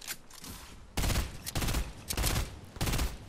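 Gunshots in the video game Fortnite: several bursts of rapid fire, close and sharp, separated by short gaps, the first faint and the later ones louder, with no talk over them.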